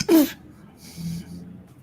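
A single sharp sneeze bursts out close and loud, followed by a softer breathy exhale and faint murmur in a quiet indoor room.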